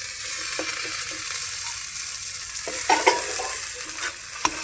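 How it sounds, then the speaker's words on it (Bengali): Cashews and raisins are stirred into thick khichdi masala, giving a steady frying sizzle with scraping spoon strokes and a few sharper clinks near the end. "এই পর্যায়ে আমি কিছু কাজু আর কিশমিশ এখানে দিয়ে দিব।"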